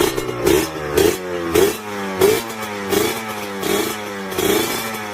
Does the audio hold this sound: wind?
no